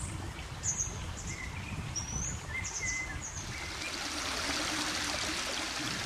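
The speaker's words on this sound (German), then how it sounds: "Der Goldsteinbach speist heute die Amphibiengewässer mit einem vollkommen neuen Wasserregime." Water of the Goldsteinbach stream runs steadily into amphibian ponds in a restored former tank-pond site in the Goldsteintal, Wiesbaden, giving a continuous broad rush while several birds chirp and call in the background.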